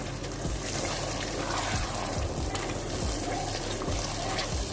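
Chicken karela with green chillies being stirred in a pan, a steady soft sizzle with repeated scraping strokes of the spoon at a moderate pace, close and continuous with no talking.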